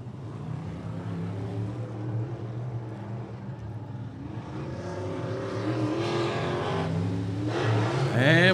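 Race cars run a hot-lap time trial qualifying session at Rockcastle Speedway, a continuous engine roar that swells and grows louder toward the end, as if approaching.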